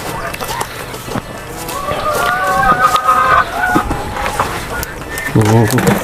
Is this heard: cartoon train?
no